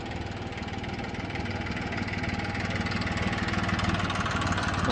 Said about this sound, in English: That's not them, it's a tractor going past.